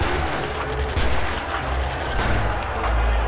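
Guards gunning down rioting prisoners in the game Prison Architect: a dense, continuous barrage of overlapping shots and rumbling booms, loud and unbroken for several seconds, with no voices over it.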